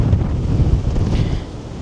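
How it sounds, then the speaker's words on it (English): Strong wind buffets the microphone on the open deck of a Holland America cruise ship in rough seas, a loud, steady roaring rumble with no voices. "It's very windy once I got away from those chairs."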